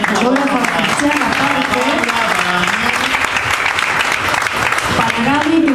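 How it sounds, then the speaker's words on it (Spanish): Steady audience applause at a live jazz concert in a café fills the room, with a musical tone and an announcer's voice running over the clapping throughout. "un aplauso, por favor"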